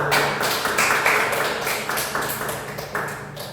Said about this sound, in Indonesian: Benar sekali ya, kita beri aplaus dulu